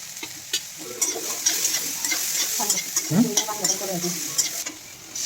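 Soybean curry with ghee stirred in a pan gives a steady sizzle under repeated scraping spoon strokes and soft clinks against the metal, close and moderately loud, with no talk.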